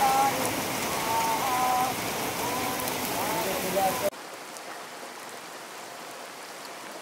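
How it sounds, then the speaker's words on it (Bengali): Heavy rain pours steadily as a dense broadband hiss for about four seconds, with faint voices mixed in, then cuts abruptly to a quieter, thinner rainfall wash for the remainder. "প্রচন্ড জোরে বৃষ্টি চলে এসছে এখন"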